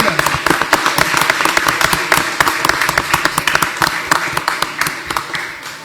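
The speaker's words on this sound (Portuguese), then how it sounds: "Eu quero pedir uma salva de palmas de todos vocês aqui," An audience gives a guest a round of applause at a podcast recording, dense close clapping that carries on steadily for several seconds with a few voices underneath.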